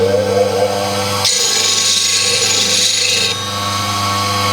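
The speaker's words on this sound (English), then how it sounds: "Now we get that sharpened." A steady, humming bench grinder sharpens a Hope threepoint turning tool on a sharpening block, and a harsher grinding hiss rises for about two seconds while the tool meets the wheel, then fades back to the motor's drone.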